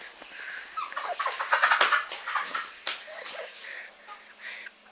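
A chicken held in a child's hand gives soft, fluttery clucks and rustling scuffles, close and irregular, with a few brief louder squawks and light handling noises.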